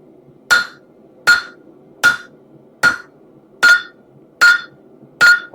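Seven evenly spaced, ringing hammer blows strike hot axe steel on the horn of an anvil, each a loud close metallic clang with a bright ring, falling roughly once every three quarters of a second.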